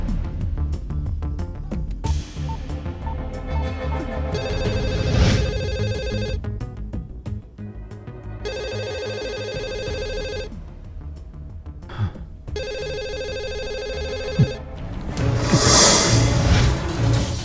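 A telephone ringtone repeats in regular electronic bursts with short gaps between them, set against a background of film-scene ambience and a whoosh near the end.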